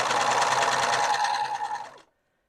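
A sewing machine running a test stitch along a hem in fabric, a loud continuous whirring buzz for about two seconds that slows slightly and then stops abruptly.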